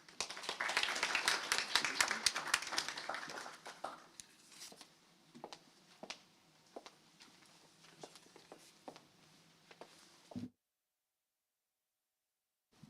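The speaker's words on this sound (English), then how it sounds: "Ladies and gentlemen, let's make that a second round of applause." Audience applause at an academic talk on the just transition: dense clapping from many hands for about four seconds, then thinning to scattered individual claps and fading out before an abrupt cut to silence.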